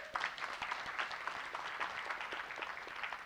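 Brief, fairly faint applause from the crowd at a Newark recycling summit after the city council passed its first recycling bill, a few seconds of scattered clapping heard from a distance.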